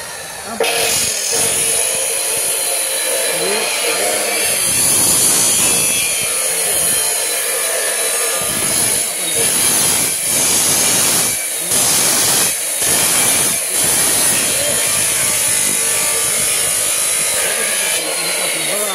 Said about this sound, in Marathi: लावतो मशीन आता लागली बघा वरडते बघा आता मशीन लागली बघा